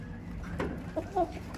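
Chickens in a backyard coop give a few short, quiet clucks over a low background hum, two brief calls close together near the end.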